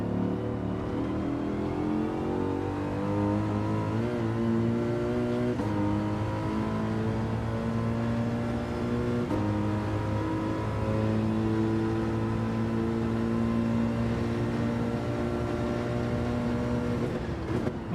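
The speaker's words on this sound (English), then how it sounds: "Why is my car locking up and understeering in brakes when I've got ABS on?" A car engine drones steadily in the Gran Turismo 7 racing game, its tone rising and falling with throttle and downshifts under braking. The engine is loud and continuous for the whole stretch, with no voices.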